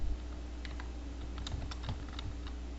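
Quick typing on a computer keyboard at a desk while working in 3D software: a run of light, close key clicks in an irregular rhythm over a low steady hum.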